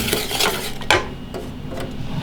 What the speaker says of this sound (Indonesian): aduk dulu